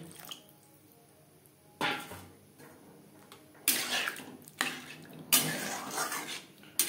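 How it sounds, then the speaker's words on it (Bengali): Water poured into a pot of chickpea dal cooking with cauliflower, heard as a few close splashing, gurgling bursts separated by quieter gaps, with no voices. "আর দিয়ে দেব পরিমাণ মতো জল।"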